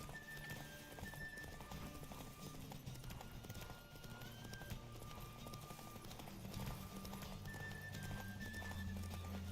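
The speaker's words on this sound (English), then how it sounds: "Don't spare the horse." A horse gallops in The Witcher 3 with a steady stream of hoof clip-clops under game music, with occasional whinnies; the sound stays quiet and continuous throughout.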